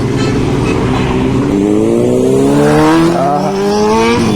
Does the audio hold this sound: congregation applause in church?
no